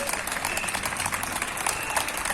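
Neighbours applaud from their windows for local police and emergency crews, a steady wash of clapping heard from a short distance.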